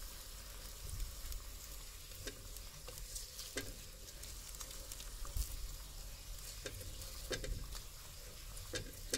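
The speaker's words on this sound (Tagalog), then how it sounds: "Haluin muna natin yan." A Filipino home-cooked ulam dish is stirred in a pan, with steady frying sizzle and scattered scraping clicks from the utensil throughout.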